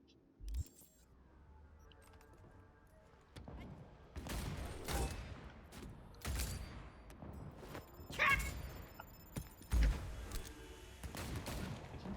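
Precision rifle fire in the video game Cyberpunk 2077 Phantom Liberty: a string of sharp, loud, spaced shots with booming tails, alone with no talk.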